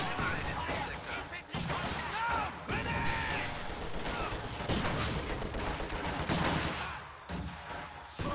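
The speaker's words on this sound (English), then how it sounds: "That friendly fire grenade right there." A friendly-fire grenade blows up during a video game firefight, the blast mixed into bursts of gunfire and a dense battle din, with a voice talking over the action.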